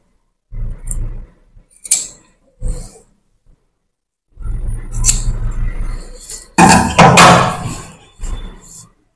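Fabric being cut for women's pencil pants, heard as separate close snips and crunchy cutting bursts with quiet gaps between them, and a busier, louder stretch of cutting near the end.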